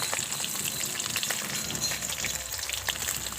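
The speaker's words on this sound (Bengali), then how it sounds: "মাছগুলো আমি একটু ভালো করে ভেজে নেব" Steady crackling sizzle of hilsa fish frying in hot oil, a dense hiss with small pops throughout, close by and without any talking.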